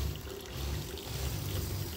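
Running water from a tap in a barbecue smoker grill trailer's hot and cold water system, a steady low rushing flow heard alone and fairly faint.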